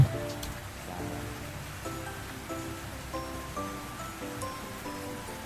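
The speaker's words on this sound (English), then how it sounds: "It's raining really hard." Heavy rain falls steadily in a dense hiss, spiced with closer drips and patters pinging in uneven rhythm over the whole stretch.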